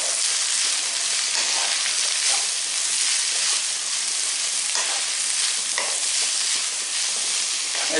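Zucchini, tomato and spring onion fry in oil for pasta sauce, a loud, steady, close-up sizzle with faint stirring movements throughout and no voices.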